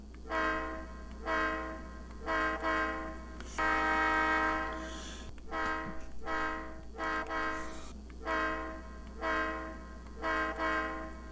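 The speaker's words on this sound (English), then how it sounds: "Now let's listen to the short horn." Short blasts from a train air horn with echo, produced by a Tsunami2 sound decoder, sounding as a series of loud, evenly spaced toots with one longer blast in the middle, a steady hum underneath.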